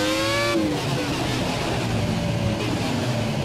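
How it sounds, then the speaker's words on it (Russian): Ferrari Formula 1 car engine in the F1 2017 racing game, a loud high-pitched rev that climbs, cuts off briefly on a shift, then settles into a sustained droning whine under a noisy backdrop, with no talk. "Офигенный звук движка, слушай."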